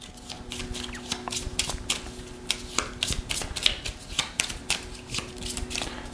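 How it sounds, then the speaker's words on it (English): Scott Pilgrim's Precious Little Card Game cards being shuffled by hand, a steady run of crisp riffling flutters with soft slaps, close and fairly quiet, no talking. "in the case of Ramona, I'm going to give it a little shuffle, shuffle."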